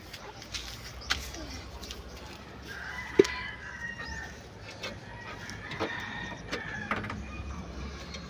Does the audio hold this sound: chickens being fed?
yes